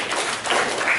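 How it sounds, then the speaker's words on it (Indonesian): Brief burst of classroom applause for a student, a steady broadband patter of many hands at close range lasting about a second. "Tepuk tangan buat Nada."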